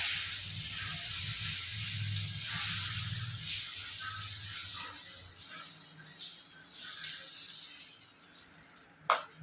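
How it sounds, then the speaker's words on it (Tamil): Bottle gourd and lentil adai batter poured onto a hot griddle, giving a steady close hiss and sizzle with faint scraping, ending in a brief clatter. "ஒரு கரண்டி மாவு எடுத்து நல்லா லேசாக ஊற்றிக்கலாம்"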